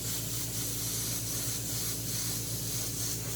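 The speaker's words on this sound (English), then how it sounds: "the more you pump your airbrush, go in and out like I do, you're gonna loosen stuff up" An airbrush sprays paint in a steady, close hiss with slight pulsing as the trigger is worked, continuous and without any voices.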